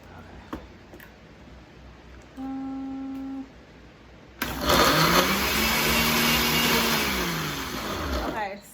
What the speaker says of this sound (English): I haven't used this blender before.